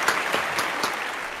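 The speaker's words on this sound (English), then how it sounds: "let's all give them a big round of applause" Brief burst of applause from a talent show audience, moderately loud and steady with a few sharper claps standing out.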